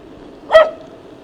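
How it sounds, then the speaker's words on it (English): A dog lets out one sudden, loud bark close by, a short sharp burst over a low steady background hum while cycling downhill. "That dog made me jump me back so loud, he made me jump then."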